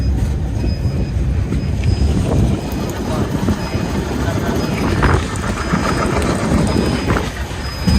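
Loud, close long-distance passenger train rumbling along the rails with a continuous roar, rhythmic clacking of wheels and occasional high metallic squeals, heard from inside the train.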